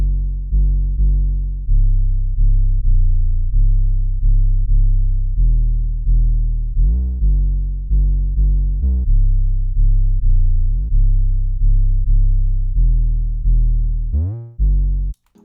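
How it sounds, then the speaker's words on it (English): Deep, subby 808 bass in a trap-style beat, gliding between notes in a steady repeating pattern with pitch slides, loud and alone with no other drums or voices. "I think 808 slides sound really good."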